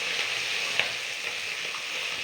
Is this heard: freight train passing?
no